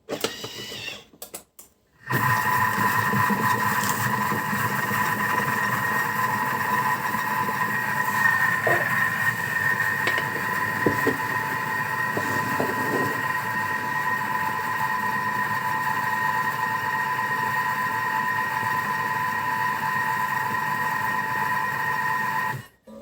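Thermomix TM6 mixing cookie dough at speed 3, giving a steady motor whir that runs unbroken for about twenty seconds after a short pause, loud and close with no talking.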